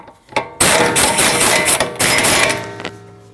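A rear shock mount bolt on a Ford Escape is tightened, likely with a power tool, in a loud rattling mechanical burst lasting about two seconds, broken by short gaps and preceded by a few clicks.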